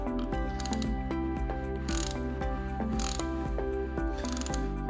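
Bolts on a 2017 Kawasaki race clutch are tightened with a steady run of sharp metallic clicks and ratcheting, loud and close, with no talking.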